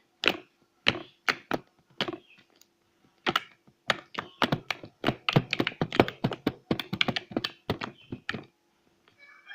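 Repeated sticky, wet tapping and squelching pokes into soft slime, irregular and close, in quick bursts with short pauses.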